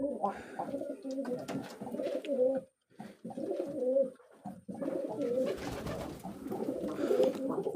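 Racing pigeons coo nearby in repeated throaty phrases, with short pauses between bursts of cooing.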